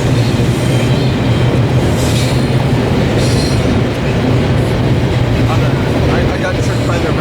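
A BNSF freight train with a Tier 4 locomotive passes close by near Barstow, California, a loud continuous rumble of wheels and cars with a low engine hum throughout.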